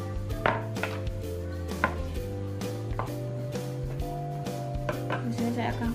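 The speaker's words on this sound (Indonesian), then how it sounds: "Di sini saya akan potong-potong tempenya." Knife chopping tempeh on a cutting board in a home kitchen, a series of irregular, soft thuds over a steady low hum, with faint clinks of utensils.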